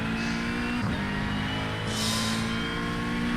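A race car engine in a racing simulator game drones at a steady high pitch, a constant sustained whine with a brief dip in revs and a swell of tyre or wind noise midway.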